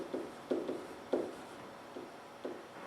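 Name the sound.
writing down an equation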